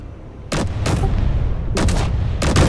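A turret in Space Engineers fires rapidly: four sharp, loud, close shots arriving in two quick pairs over a low mechanical hum.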